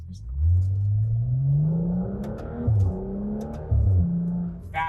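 A BMW 335i F30 pulls hard under acceleration, its engine note rising smoothly and then dropping sharply several times as the ZF 8-speed automatic snaps through quick upshifts, heard from inside the car.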